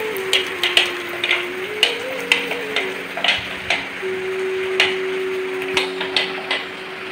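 Palm fruit pulp being grated by hand for palm fritters, a series of short scraping strokes close by in a home kitchen, uneven in rhythm, with a steady background hiss like rain outside.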